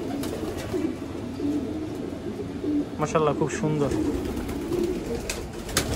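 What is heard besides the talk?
female pigeons cooing in a loft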